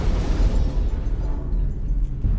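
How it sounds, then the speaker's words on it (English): Explosions rumble in the Aliens: Colonial Marines video game on PS3, a dense, loud low-end roar sustained through the clip with no talk over it. "Whoa, explosions!"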